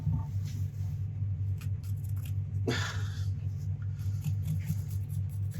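A pencil scrapes across a wooden bowl blank while marking it during woodturning, a soft dry scratching with one brief louder stroke, close and steady over a low background hum.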